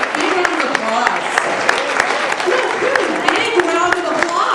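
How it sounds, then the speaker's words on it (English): Scattered audience clapping at a festival celebrity reading event as reader J.P. Shadrick comes up, with sharp individual claps standing out over a lively, voice-filled room and what sounds like talking mixed in. "Big round of applause."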